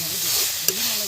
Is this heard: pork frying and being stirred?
yes